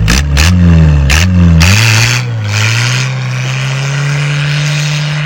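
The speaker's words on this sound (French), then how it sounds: "je vais vous mettre un court extrait de avant en échappement libre, le bruit qu'elle faisait" Engine running on a straight-through exhaust with no muffler, a loud, raw drone that blips and revs a few times before settling into a steady, throaty idle close by, with no talking.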